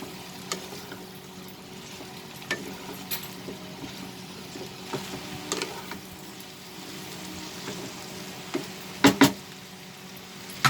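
Potato and ivy gourd stirred in a hot pan, with a soft, steady sizzle and scattered scraping clicks from the spoon, a louder pair of knocks near the end.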